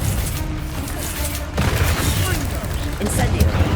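The Confringo fire spell goes off in the Hogwarts Legacy video game, a loud burst of crackling blasts and booms within dense combat noise, with a voice speaking over it.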